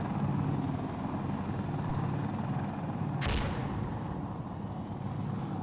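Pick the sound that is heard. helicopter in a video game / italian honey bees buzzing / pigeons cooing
helicopter in a video game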